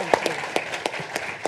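An audience claps for Professor Plokhy, a historian, after his introduction at a lecture on the Russo-Ukrainian war. The applause is a steady patter of hands with a few sharper claps standing out at regular intervals.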